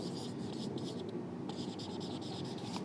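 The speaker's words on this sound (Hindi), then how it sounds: "तो सिंपली अगर मैं इस चीज़ को यहाँ पर लिख दूँ" Chalk or marker scratching across a classroom board during a biology lesson, a steady run of short scritching strokes with a brief pause midway, close and fairly quiet.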